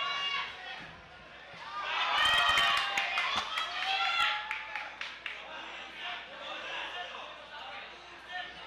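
A boxing crowd at the Carl Jammes Martin vs. Ronnie Baldonado fight swells into an excited roar after an exchange of punches, then settles back into a murmur, with sharp claps and shouts and commentary voices over it.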